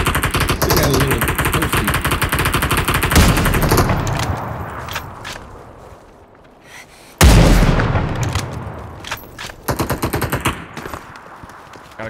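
Heavy automatic gunfire rattles in the battle royale game Super People, with long loud bursts, a lull, then a sharp blast and more scattered shots, close and dense.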